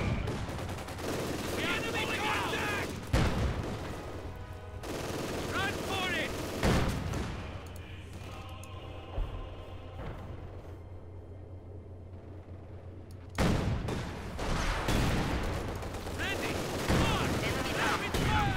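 Machine gun fire and rifle volleys in the Company of Heroes 2 World War II strategy game, rattling in repeated bursts with loud surges and a quieter lull, under occasional game voices.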